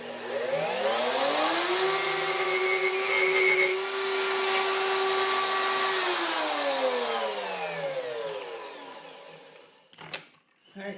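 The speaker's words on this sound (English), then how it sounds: "And you're ready to cut your second mortise." A homemade slot mortiser cuts a mortise in wood, its motor whining up to a steady high pitch, holding for several seconds, then winding down, with a few clunks of handling at the end.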